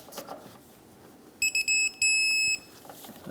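Electronic beeps from a torque wrench reaching 54 foot-pounds on a 2013-2018 Hyundai Santa Fe wheel nut: a few short high beeps, then one longer steady tone, loud and close over quiet room background.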